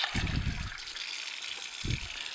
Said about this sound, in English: But really it's mostly just some quick rinsing, letting it dry.